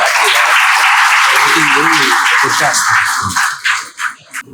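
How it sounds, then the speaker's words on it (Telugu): An audience breaks into applause at a gathering, a dense, loud burst of clapping that fills the hall before tapering off into a few scattered claps. "ఒకసారి ధన్యవాదాలు తెలపండి అందరూ చప్పట్లతో"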